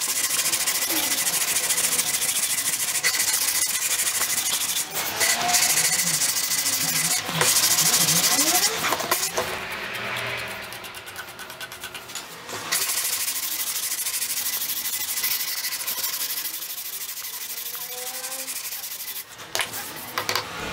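Hand sanding of wood for a simple handmade picture frame produces a continuous, loud, raspy scrubbing that shifts in intensity with occasional brief pauses and harder strokes over about twenty seconds.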